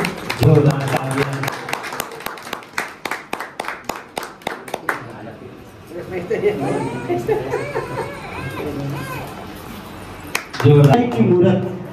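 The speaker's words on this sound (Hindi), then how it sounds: "जोरदार तालियां।" Applause at a teacher's retirement function after 38 years of service: a quick run of sharp, close claps for about five seconds, then voices talking over a murmuring crowd, with a brief burst of clapping near the end.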